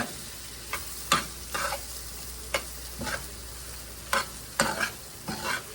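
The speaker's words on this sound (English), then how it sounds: "let's get this stirred up in here together. Get it all mixed real well." A squash mixture is stirred in a skillet while making Southern baked squash, with scattered scraping and clacking strokes at an irregular rhythm, close by and moderately loud, over a faint steady background.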